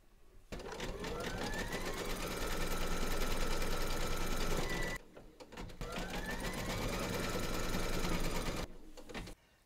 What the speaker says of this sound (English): load your matching bobbin and thread colour for the soles of his sandals into your machine, and then stitch round number 7